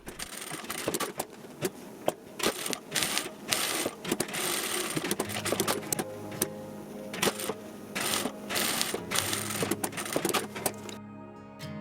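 A sewing machine quilts the bottom piece of a fabric bucket, running in repeated fast stitching bursts with brief pauses between them, close and fairly loud.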